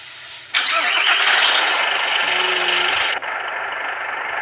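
A government bus running between Trichy and Chennai starts its engine: a brief crank, then a loud, steady diesel roar that settles into an idle, close up and with no talk.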